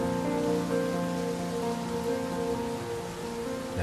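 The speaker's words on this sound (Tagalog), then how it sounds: "ang sarap panoorin ng ulan" Steady rain falls and patters on surfaces in continuous, moderately loud wash with no pauses, while sun shines through the shower.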